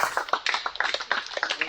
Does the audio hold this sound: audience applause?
yes